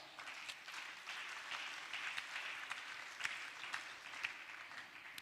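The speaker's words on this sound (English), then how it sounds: "So help me in thanking her by clapping for her." An audience at an official flag-off ceremony for a cancer patients' support fund claps continuously, a faint and somewhat distant patter with occasional sharper individual claps standing out across the whole stretch.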